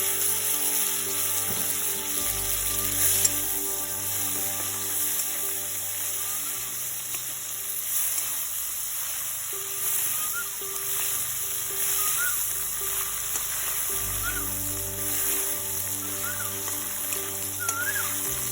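Tomatoes sizzle in a frying pan of bottle melon and shrimp cooked with Bengali spices, a steady close hiss and crackle of oil with occasional faint stirring.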